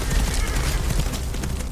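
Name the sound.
volley of gunfire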